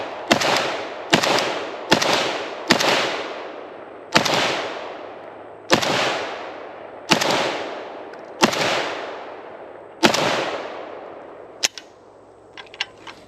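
Single loud gunshots from an Asian contract gun ring out at a shooting range, about ten shots spaced roughly a second apart, each with a long echoing decay, followed by a few fainter clicks and knocks.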